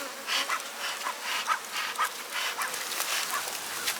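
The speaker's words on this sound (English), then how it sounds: "run them bees off" Dense, steady buzzing of many honey bees swarming close around an open hive, with pulsing rises and falls and no talking.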